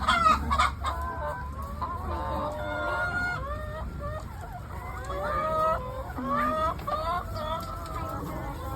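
Hens cluck in a coop during egg collecting, with steady overlapping clucks and squawks close by throughout and a brief crow-like call among them.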